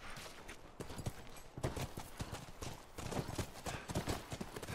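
Horse hooves clip-clopping in The Last of Us video game, a steady, quiet rhythm of hoofbeats at a walk that carries on throughout, with no talk over it.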